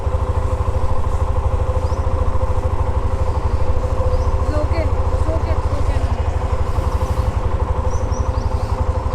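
A motorcycle engine thrums steadily in fourth gear at cruising speed with a rapid pulsing beat and wind noise, while a voice talks faintly over it.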